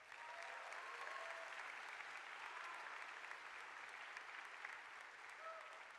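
Graduation audience for Joel E. Ferris High School's Class of 2023 in Spokane applauds teachers, coaches and mentors, a dense, steady wash of many hands clapping throughout, distant and roomy with no speech over it.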